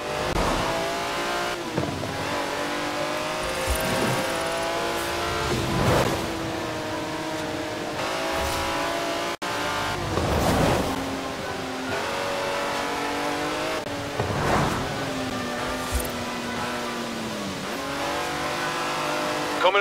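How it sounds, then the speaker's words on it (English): Engine of a 90-year-old racing car driven in Forza Horizon 4, roaring loud and close with repeated rev rises and gear-shift dips, occasional tire noise, continuous throughout with no talk. "That's a 90-year-old racing car. It's gonna take some handling."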